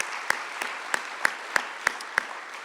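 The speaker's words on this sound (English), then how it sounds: "Big round of applause." At a county State of the County event, hands clap in a sparse, even rhythm of sharp, separate claps about three times a second, with no crowd roar behind them.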